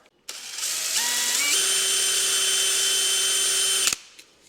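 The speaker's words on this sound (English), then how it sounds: "take my vary bit and drill this out" A power drill with a step bit drills out a hole while fitting a tow hook on a C8 Corvette: a close, steady whine lasting about three seconds. Its pitch climbs briefly early on, then holds until it stops abruptly.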